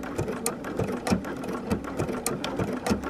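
Sewing machine stitching raw-edge applique, a close, steady mechanical whir with fast rhythmic clacking of the needle mechanism.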